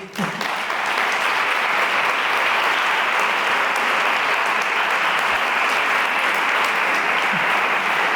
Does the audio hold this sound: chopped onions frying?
no